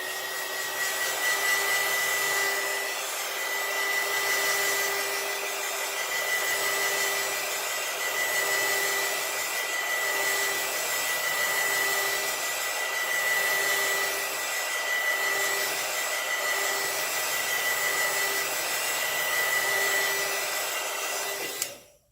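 A hair dryer blows steadily onto an alcohol ink flower center, a loud, even whir of air that runs for a long stretch before cutting off abruptly at the end, with no voices.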